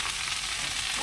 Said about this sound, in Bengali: আগে ভেন্ডিটাই ভাজা বসিয়ে দিই।